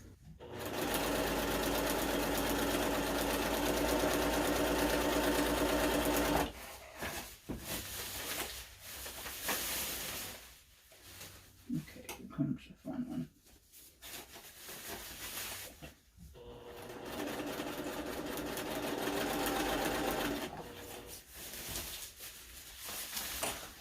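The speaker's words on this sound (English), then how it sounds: "this is her actually sewing them in" A sewing machine stitches tie-out loops into a single-wall tent in long, loud, continuous runs. The steady buzz breaks off in the middle for stops and fabric handling, then starts again. It is close, with no talking.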